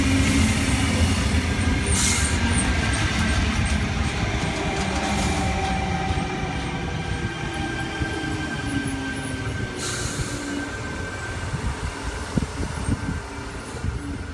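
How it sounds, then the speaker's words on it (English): A Sydney suburban train on the Liverpool service pulls away from platform 2 at Yennora, a loud steady rumble of wheels and motors that slowly eases as it departs, with faint rail clicks and no talk. "245 and 201 now departing platform number 2, Liverpool service."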